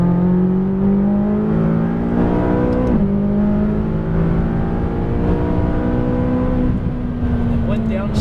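A McLaren 570S on a race track, its engine droning loud and steady from on board as it pulls hard under power, the pitch rising then briefly dipping at a shift before climbing again.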